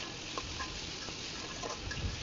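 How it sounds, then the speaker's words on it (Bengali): Mixed vegetables, beetroot among them, fry in a pan for noodles, giving a steady close sizzle with a few faint ticks and stirring scrapes and no voices. "তো ভালো করে এখন আমি ভেজে নিচ্ছি।"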